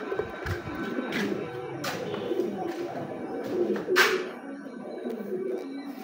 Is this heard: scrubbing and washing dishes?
no